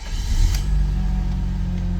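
Engine of a BMW E31 850i, revived after 15 years of sitting, pulling along in gear: a close, steady low drone after a short rise at the start, with no talk.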